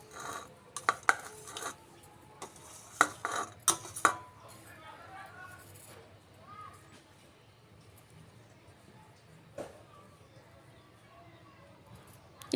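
Small potatoes being crushed on a stone slab with a grinding stone, with dry red chillies on it, giving irregular clacks and knocks up close, then softer scraping, while someone talks.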